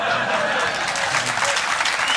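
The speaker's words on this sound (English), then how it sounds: "That's a pity applause. They're clapping for you." An audience at a live comedy podcast recording breaks into steady, dense applause that fills the room for a couple of seconds.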